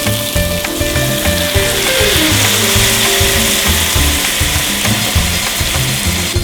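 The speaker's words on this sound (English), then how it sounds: "you actually want to hear a little bit of a sizzle when you put it in" Meat sizzles in a hot pot while browning for a Cape Town curry, a loud, continuous crackling fry with rhythmic scraping or stirring knocks running underneath, no talking.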